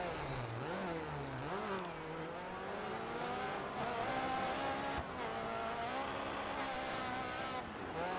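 A rally car engine revs and wails through rising and falling pitch while drifting in DiRT 4, with a faint voice underneath.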